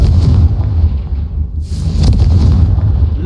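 Confringo, an explosive spell in Hogwarts Legacy, blasts with a heavy booming rumble, a brief dip in sound, then a second deep explosion that keeps rolling, loud and close.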